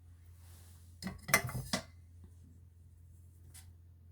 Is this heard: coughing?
no